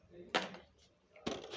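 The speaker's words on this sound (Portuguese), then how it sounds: "Só tenho que guardar essas panelas" Cooking pots and pan lids being put away in a kitchen cupboard: two quick metallic clanks about a second apart, close and fairly faint, with a quiet room between them.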